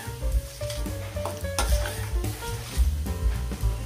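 Mustard seeds spluttering in hot oil for a tomato chutney crackle and pop close up, with rhythmic scraping of a stirring spoon against the pan and no talking.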